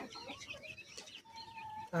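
Native chickens cluck and chirp softly nearby in a brief burst, with faint background murmur and a louder sound cutting in at the end.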